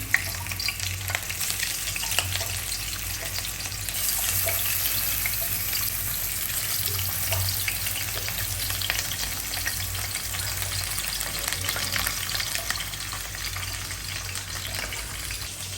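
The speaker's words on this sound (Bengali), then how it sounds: "পেঁয়াজটা ভাজা হয়ে গেছে" Onions frying in a pan, a loud continuous sizzle with steady crackling and occasional stirring, no voices.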